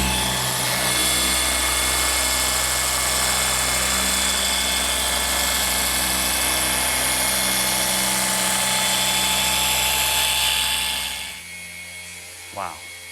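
Polishing machine working the paint of a BMW E90 M3, a loud steady whirring drone with a constant tone that runs unbroken before winding down and cutting off near the end.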